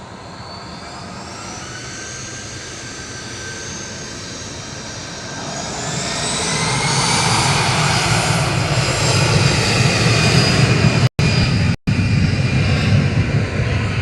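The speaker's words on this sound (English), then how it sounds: "EasyJet off to Geneva there." An EasyJet jet takes off from Manchester Airport for Geneva, a loud close engine roar with a rising whine that swells sharply midway and holds, broken by two brief dropouts.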